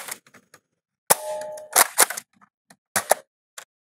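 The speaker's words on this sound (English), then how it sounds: "let's see how a few of these fire down range. Just put a couple flat shots down." A Zuru Chaos Meteor foam blaster firing shots down range, a few sharp, loud pops spaced apart with a short mechanical whir and small clicks of handling between them, no talk.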